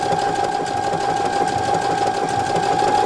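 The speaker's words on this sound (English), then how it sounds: "I'm ready to go now and stitch this down." Brother PR1055 embroidery sewing machine stitching down a quilt block appliqué, a loud, steady mechanical whir with a constant tone and fast even needle rhythm, with no talking.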